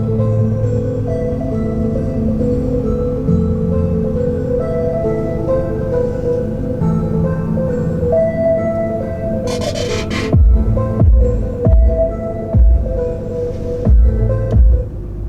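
Music plays steadily through the 17-speaker Harman Kardon premium sound system inside a 2022 Ram 2500 HD cabin, with a full bass line and sustained tones, and punchier low-end hits near the end.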